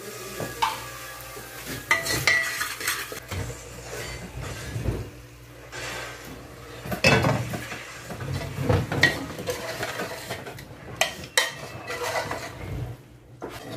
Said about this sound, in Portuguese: agora a gente deixa dando uma fritadinha nele